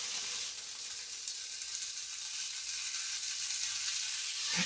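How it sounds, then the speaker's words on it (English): Vegan ground pork sizzles steadily in a hot pan, a loud continuous hiss of frying with faint scraping as it is stirred. "This is the fourth time I'm stirring it around"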